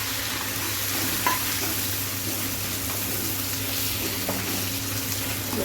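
Moong dal fries in a pan while being stirred, a steady close sizzle with scraping stir strokes and a low hum underneath, continuous throughout.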